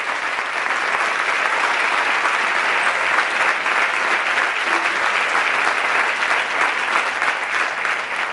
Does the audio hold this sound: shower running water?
no